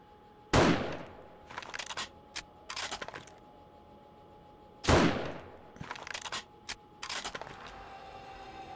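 Gunfire from a junk turret in the survival game 7 Days to Die, in two sharp loud bursts a few seconds apart, each trailed by scattered smaller cracks and clatter.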